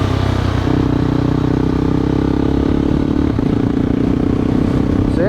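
A 2023 KTM Adventure 390 motorcycle cruising on a highway, with a loud, steady engine drone and constant wind roar filling the whole stretch, no pauses.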